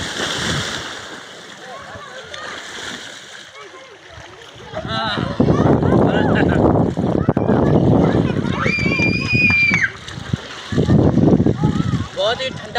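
Water splashes and sloshes loudly up close as people bathe in a cold canal, talking and shouting over it, with a high whistle-like tone briefly cutting through.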